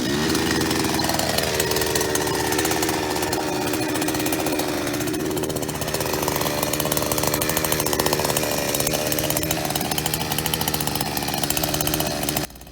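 A chainsaw rips steadily through a huge wooden pole on inherited land, its loud engine droning without a break for about twelve seconds before cutting off abruptly at the end.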